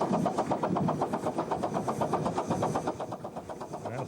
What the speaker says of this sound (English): that little locomotive has everything it can do to climb this crest.